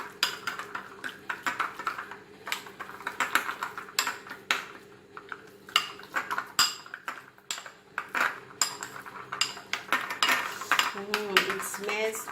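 A fish masala mix of mackerel being stirred in a dish, a steady run of close metallic clinks and scrapes from a spoon against the bowl, with a faint rhythmic squelch, continuing without pause and no talking.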